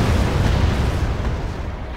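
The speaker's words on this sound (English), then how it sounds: "now my artillery continues firing again under the positions" Steady artillery barrage in the Wargame strategy game, a dense continuous rumble of overlapping distant booms with heavy low-end weight, sustained at an even loudness throughout with no voices.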